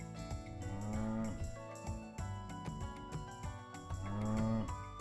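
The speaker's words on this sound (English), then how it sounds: "I'm going to milk the cow." Cow mooing in the farming sim game Bountiful Life, repeated low lowing calls over a steady musical background, fairly loud and with no talk.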